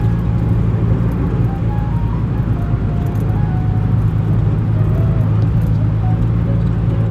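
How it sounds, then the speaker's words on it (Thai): A car turns off the road into a narrow side street, its engine and road noise forming a steady, close, unbroken hum from inside the cabin, with no one speaking. "ตอนนี้เราก็ขับเข้ามาในซอยแล้วนะครับ"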